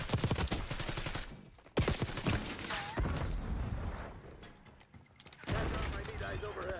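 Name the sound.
gunfire in the video game Black Ops 6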